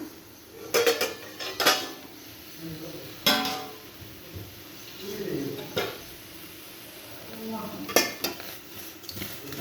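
Devdangar fruit being turned over in a cooking pot, with repeated clattering scrapes and knocks of a spoon against the metal pot at irregular intervals, fairly close.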